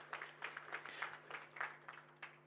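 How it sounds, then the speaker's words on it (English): Audience at a science academy launch event clapping hands together in a steady, fairly faint patter of many claps, with a low steady hum underneath. "Can we just clap hands and celebrate those people?"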